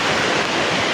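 Floodwater in a swollen river rushes in a dense, continuous roar, loud and close, with no voices.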